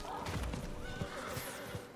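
A horse neighs in Diablo 4, its whinny rising clearly over steady game ambience with a few soft thuds, all within two seconds and with no speech.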